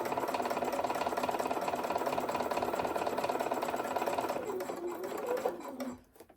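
A sewing machine stitches a holiday quilt block, giving a fast, close, even mechanical whir that runs steadily and then slows and stops near the end.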